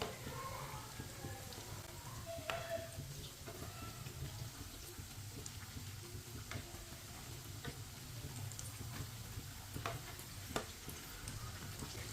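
Bread rolls fry in a pan of oil, a faint continuous sizzle with occasional small ticks and pops.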